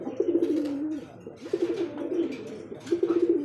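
A male deshi Rajgola pigeon, black and white, gives three close, throaty rolling coos separated by short pauses.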